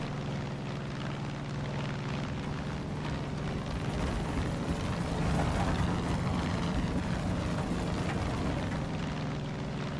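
A seaplane in Far Cry 5 drones along in flight, its engine a steady low hum with a tonal buzz and airy wash that swells slightly midway, continuous and fairly loud, with no talking.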